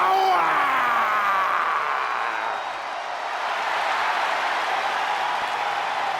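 A dense arena crowd applauds in the WWE 2K20 wrestling game as a steady, loud wash of clapping and cheering that runs unbroken throughout, with a brief voice at the start.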